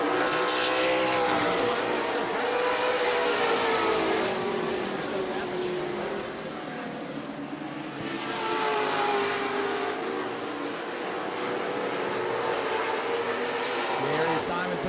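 Modified race cars roar around the New Smyrna speedway in a World Series race, engines droning and surging as the pack passes in waves, with an announcer talking continuously over the racing.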